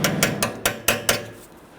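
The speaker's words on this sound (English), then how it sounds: "We can use our pliers or cutters. We wanna go ahead and straighten out the tabs and remove this" Pliers working the cotter pin tabs on a ball joint of a 2008-2013 Infiniti G37 front lower control arm, six sharp metallic clicks in an uneven rhythm, close and clear with no talk.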